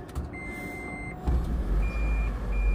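Reverse warning beeps from a Toyota Prius hybrid being put into reverse after a jump start, a steady high electronic tone repeating at intervals over a low engine and road rumble.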